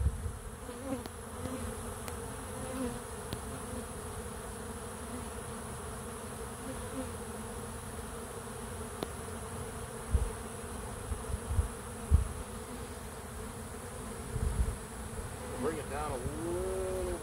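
A honeybee swarm drones with a dense, continuous buzz close by, individual bees whining past the microphone, under occasional quiet talk.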